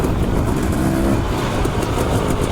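A dirt bike engine drones loud and close on a dry cliff trail on an Idaho enduro route, a continuous rough roar with slight revving swells throughout.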